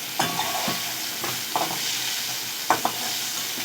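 Cauliflower florets fry in oil in a pan until deep red-browned, a steady close sizzle broken by a few sharp stirring scrapes.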